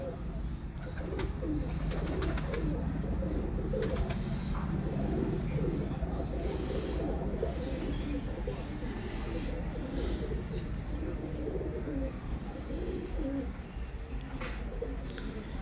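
Breeder pigeons coo softly and repeatedly at a pigeon loft, their low murmuring calls blending into a constant background hum, with faint voices present.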